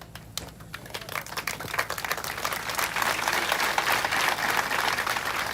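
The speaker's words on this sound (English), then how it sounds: "Rise up and everybody clap for the honorable minister" An audience applauds the honorable minister at a health ministry ceremony commissioning community health extension workers, the clapping building to a dense, steady roar over about five seconds.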